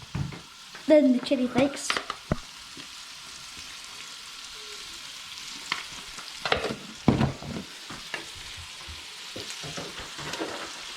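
Fried rice with red salmon and chili flakes is stirred around a frying pan, giving scraping, clattering stirs over a soft sizzle, with a brief spoken remark near the start.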